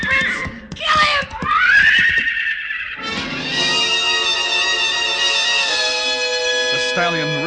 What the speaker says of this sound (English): The stallion reared high, pawed at the gathering darkness.